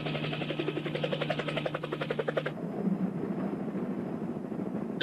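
A helicopter in flight gives a rapid, rhythmic rotor chop with a steady drone for about two and a half seconds, then drops to a muffled, lower cabin rumble.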